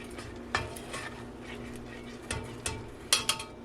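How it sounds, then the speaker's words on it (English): A spoon stirs homemade stovetop mac and cheese in a pot, scraping and clinking against the metal in irregular knocks over a low background hum while the cheese melts. "You just stir it until the cheese melts"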